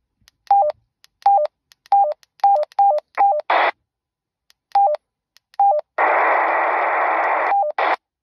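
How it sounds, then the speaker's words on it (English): A digital radio repeater signal on an Anysecu WP9900 mobile radio: a run of short, evenly spaced electronic beeps and tones, then a harsh burst of buzzing digital noise about two seconds long, ending in another beep. "That's a digital repeater."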